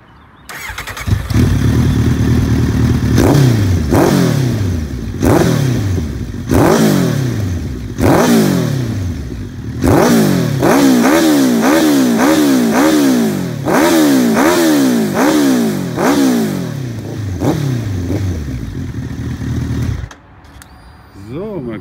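Kawasaki Z1000 motorcycle revved repeatedly at full throttle, loud close engine with a series of rising and falling rev sweeps that come faster and closer together in the middle, then cut off near the end.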